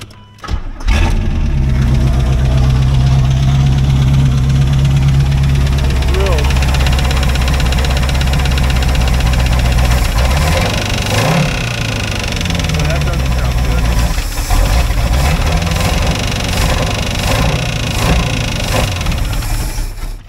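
A Chevrolet C4 Corvette engine cranks, fires and settles into a loud, steady idle with slight rhythmic rise and fall, while a voice talks over it.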